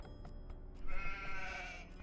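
A sheep bleats in a video game, one loud wavering cry rising over a dense bed of game music and ambient noise, no talking.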